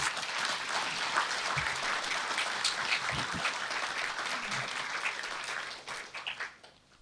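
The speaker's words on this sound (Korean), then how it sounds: "여러분, 존경과 떠나는 아쉬움을 담아서 힘찬 박수 한번 부탁드리겠습니다" A crowd at a Korean provincial governor's inauguration ceremony claps steadily and densely for several seconds, a broad wash of applause that thins into scattered claps at the end.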